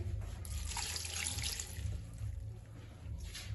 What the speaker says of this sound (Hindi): पानी डाल देते हैं इसमें